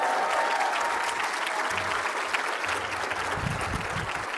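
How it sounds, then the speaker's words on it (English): Sustained audience applause at the 2025 State of Indian Nations Address, a dense, steady roar of many hands filling the hall, loud and continuous with only slight swells, no speech over it. "So let's give them another round of applause."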